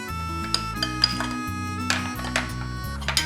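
Honey and mayonnaise sauce being stirred in a bowl, a close run of bright clinks and taps as a spoon strikes the dish, irregular and quick, with no talking.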